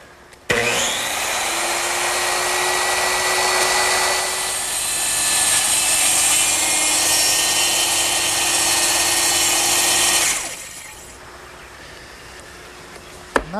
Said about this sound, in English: I'm going to make a plunge cut, which means I'm going to lower the blade through the work and carefully go along the line